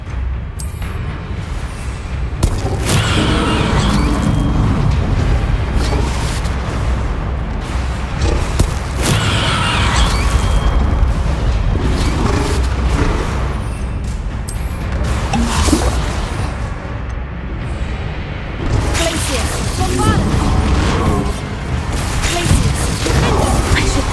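Bombarda spell explosions in the video game Hogwarts Legacy, cast again and again during combat: repeated loud blasts, crashes and whooshes in a dense, continuous battle mix with a voice speaking over it.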